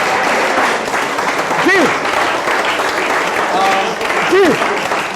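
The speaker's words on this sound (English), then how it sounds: "Can you clap for your Dean?" An audience at a university dialogue event claps continuously in a steady, dense round of applause, with brief voices calling out over it.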